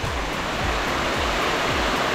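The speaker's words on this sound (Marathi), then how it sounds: "आपली जी पायवाट आहे आपल्याला वर जायची ती पूर्णपणे ती आता धबधबा बनलेला आहे आणि एवढा कंटिन्युअस पाऊस पडतो आहे" Rainwater streams down the trekking path at Jivdhan fort in continuous heavy rain, a dense, unbroken rushing roar like a small waterfall, loud and close.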